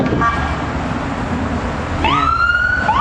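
A siren wails in rising and falling sweeps over a steady rumble of heavy traffic, loud and fairly close.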